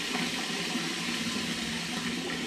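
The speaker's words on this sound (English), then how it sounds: "So I'm going to add some warm water into it." Warm water pours steadily into a fermenting bucket for a tomato paste wash, a continuous close splashing rush with no talking.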